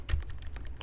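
Rapid computer keyboard typing while entering code in Roblox Studio: a quick irregular run of close, crisp key clicks with a heavier thump near the start, alone with no voice.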